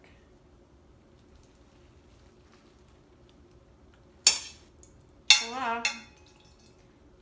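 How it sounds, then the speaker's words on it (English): A fork pokes into turkey skin as juice drains into a pan, heard as a sharp metallic clink followed by a short burst of clattering and liquid sounds; someone speaks briefly. "I'm gonna poke a hole in it and hope it drains out"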